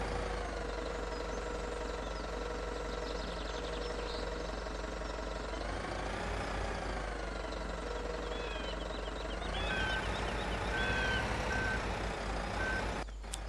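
A farm vehicle in Landwirtschafts-Simulator 17 drives into a storage shed, its steady engine drone running throughout with a loud repeating reversing beep near the end, no voices.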